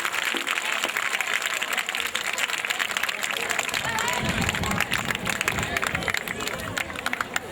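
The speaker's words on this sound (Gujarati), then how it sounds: "ઇનામ લેનાર તમામ વિદ્યાર્થીઓને આપણે તાળીઓના ગડગડાટથી વધાવી લઈશું" An audience at a school annual function claps for prize-winning students, a sustained ripple of applause that swells into a louder crowd burst midway, with voices murmuring underneath.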